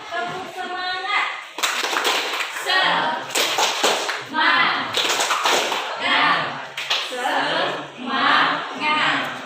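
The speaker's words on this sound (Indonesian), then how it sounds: "Tepuk semangat." Schoolchildren in a classroom perform a rhythmic spirit clap led by their teacher, loud grouped bursts of clapping in a patterned beat, with children's voices chanting along between and over the claps.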